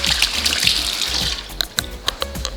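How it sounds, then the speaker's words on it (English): Hands being washed under a running kitchen tap, with a steady hiss of water and splashing, a few sharper splashes and drips toward the end, close and fairly loud. "Give my hands a little wash"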